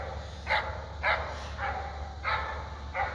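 A dog barks five times in an evenly spaced series, muffled and somewhat distant over a low steady hum.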